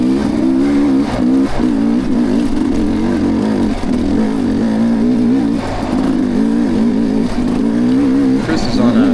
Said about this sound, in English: Chris is on a 25 KTM 300